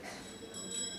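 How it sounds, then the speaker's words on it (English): Old bells ring faintly and steadily, their high tones lingering over a soft background hum. "he heard old bells ringing"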